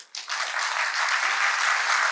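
Audience clapping at a Tamil comedy speech, starting abruptly after a brief quiet moment and then holding as dense, continuous applause at a strong, even level.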